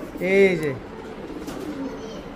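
Army breed pigeons cooing close by in a loft, a deep, rolling coo rising and falling for about half a second, followed by softer murmurs as someone speaks briefly over them.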